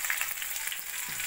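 Onion, tomato, green chillies, salt, turmeric, Kashmiri chilli powder and grated ginger fry in a pan, giving a soft, steady sizzle with faint crackles, close and without voices.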